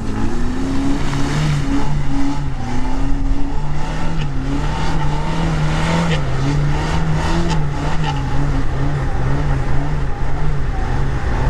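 Off-road car, a Patriot on wide 225/70/16 tyres with locking differentials, drives through mud and spring snow, its engine droning loud and steady with wavering revs rising and falling throughout, close up.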